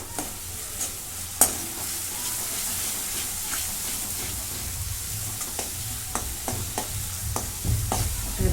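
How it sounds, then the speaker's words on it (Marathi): Ground spice paste is sautéed and stirred in a pan for a green pea curry, a continuous close sizzle with scattered spoon scrapes and knocks, growing busier toward the end. "आता इथून परतून घेते"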